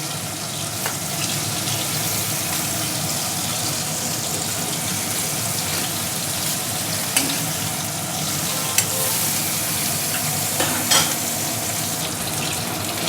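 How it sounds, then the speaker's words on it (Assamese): Fish frying in a pan with only a little oil, giving a steady, close sizzle throughout with a few brief clinks and scrapes over the hiss. "এতিয়া এই মাছটো লুটিয়াই দিম"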